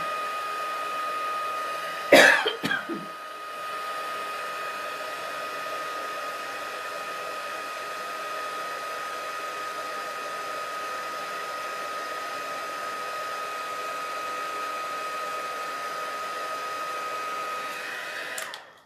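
Heat embossing tool blowing hot air over a stamped card, a steady loud whirring hiss with a constant whine, running continuously for most of the stretch after a brief cough-like sound near the start.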